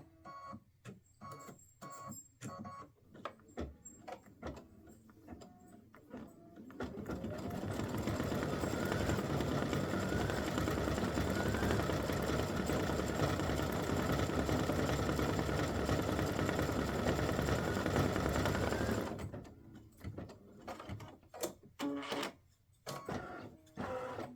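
A sewing machine stitches an appliqué onto a Christmas stocking, running in one continuous whirring burst of about twelve seconds, with scattered clicks and handling noises before and after.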